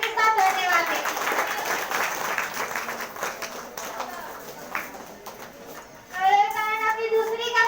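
A church congregation claps and applauds loudly at a worship service, the clapping fading gradually as voices and singing-like tones rise over it, then a new swell of sound returns near the end.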